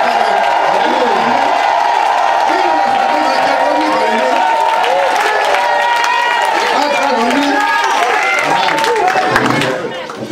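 Worshippers at a church service cheer loudly for Jesus, a sustained mix of shouting voices, clapping and excited babble that holds steady before dropping off sharply at the very end.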